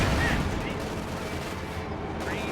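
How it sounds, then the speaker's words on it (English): A Jackson tank destroyer fires on a Panzer IV at short range in a World War II tank video game, a burst of gunfire with blast-like hits over a steady background rumble. "Jackson nails the Panzer IV at short range, dealing heavy damage."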